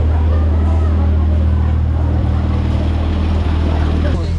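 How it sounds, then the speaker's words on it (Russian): A jeep running on alcohol fuel drives along in Brazil, its engine giving a loud, steady low drone with road rumble that stays constant throughout. "На джипе мы едем минут 5"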